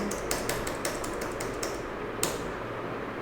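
Rapid typing on a computer keyboard, a quick run of sharp key clicks and taps close to the mic that speeds up, then trails off into a couple of final strokes.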